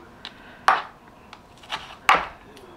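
Knife strokes on a cutting board while mincing basil leaves for a summer salad: a few sharp, separate chops at irregular intervals, close and moderately loud, with quiet gaps between them.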